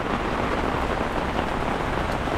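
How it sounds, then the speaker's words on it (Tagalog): Heavy typhoon rain pours down in Metro Manila during Typhoon Carina, a loud, dense, unbroken hiss of drops hammering surfaces close by. "Tuloy-tuloy ang ulan"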